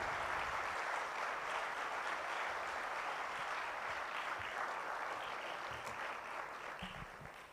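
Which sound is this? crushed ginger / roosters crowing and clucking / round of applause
round of applause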